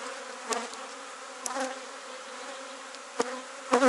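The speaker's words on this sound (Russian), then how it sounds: "пчелы уже волнуются" Agitated honey bees buzz at an open hive, a steady droning hum with a few louder bees passing close to the microphone.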